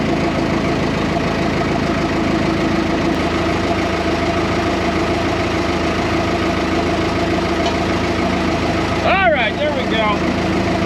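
A vehicle engine runs steadily with a loud exhaust, a continuous close rumbling drone that stays constant throughout, with a brief squeal near the end.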